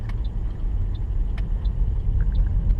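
A car pulls away gently and accelerates from a stop during a driving lesson, heard from inside as a low steady engine rumble with faint clicks and ticks over it, and no talk.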